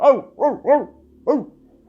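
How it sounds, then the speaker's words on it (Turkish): A dog barks four times as a sound effect in a Turkish story, with three quick close barks, a short pause, then one more, loud and clear against silence. "bir havlama sesi duydum"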